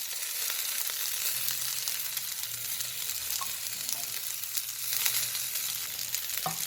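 Stuffed okra frying in a little oil over a low flame, a soft continuous sizzle with faint crackles and an occasional light scrape, steady and fairly quiet throughout.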